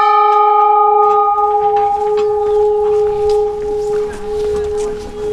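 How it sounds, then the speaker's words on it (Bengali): A metal bell at Baijnath temple in the evening rings out with a strong sustained tone and long ringing decay, loud and close, with faint voices and ambient noise beneath. "বাজাও ঘন্টাটা, বাজাও।"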